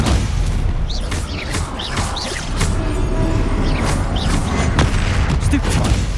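Spell-casting bursts from the game Hogwarts Legacy, with repeated sharp magical blasts, whooshes and booming impacts cutting through dense battle noise and music over several seconds.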